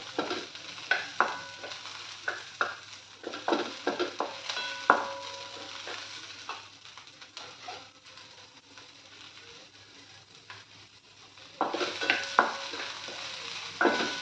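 Green chillies frying in a pan while being stirred, with a soft continuous sizzle and repeated scraping clatters of a utensil against the pan, close and busy, pausing briefly before the stirring resumes.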